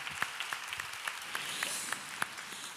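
A church congregation claps for newly baptized members, sparse, distant applause with individual claps standing out at an uneven pace, fairly faint and without talk.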